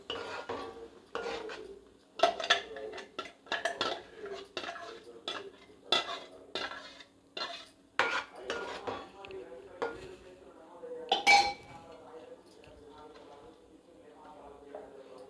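Tomato, onion and cashew paste being stirred into oil in a pan, with utensil clinks and scraping against the pan coming in irregular bursts while a person talks throughout.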